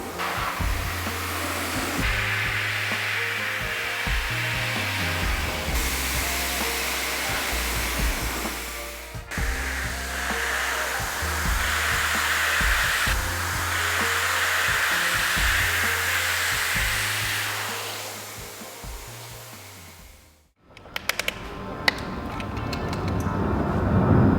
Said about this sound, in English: blast away those cobwebs, trapped leaves and built up dirt clumps in those trims and panel seams